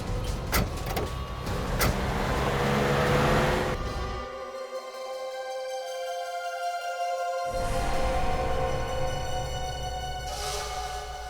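A car door thuds shut and the engine hums, then the vehicle pulls away in a dramatic TV scene, with a steady motor drone and no talking.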